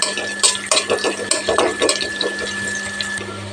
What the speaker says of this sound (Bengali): হালকা ভেজে নেব রসুনটা লাইট ব্রাউন হওয়ার দিয়ে